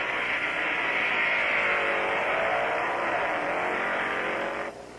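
A supercharged, nitromethane-fueled dragster of over 1,500 horsepower on a quarter-mile run at Thunder Valley Dragway in Bristol, Tennessee, producing a loud, sustained roaring blast that cuts off abruptly just before the end.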